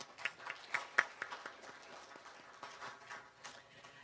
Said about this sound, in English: Let's express our appreciation with another round of applause.